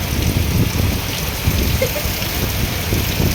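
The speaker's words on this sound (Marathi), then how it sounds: "जामच पाऊस पडतोय" Heavy monsoon rain pours down steadily in a constant close, loud wash of drops hitting surfaces, with no voices over it.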